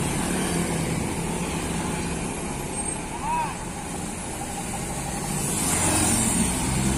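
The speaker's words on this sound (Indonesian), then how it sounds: "disusul oleh bus" RR Trans tour bus going by at Galendo, Ciamis, its engine drone and tyre noise fairly close, a brief air-brake hiss in the middle and the rumble swelling again near the end.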